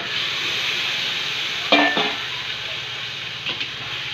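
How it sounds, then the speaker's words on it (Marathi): Mutton pieces sizzle steadily in hot oil in a pan over a wood-fired stove while being sautéed for a spicy black-gravy curry, with two or three brief scraping stirs cutting through the constant frying hiss. "आता हे मटण आहे ना आपल्याला व्यवस्थित असं तेलामध्ये परतून घ्यायचं"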